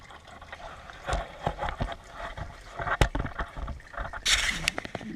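DSG transmission fluid draining from a VW/Audi A3 TDI into a bucket, an irregular gurgling trickle and splash close up, mixed with bumps and clunks of work underneath the car.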